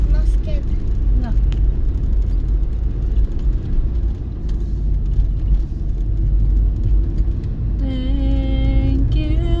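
A big motorcycle passes on a winding mountain road, its engine a continuous loud rumble close by, heard from inside a vehicle while people talk over it; a higher tonal whine rises near the end.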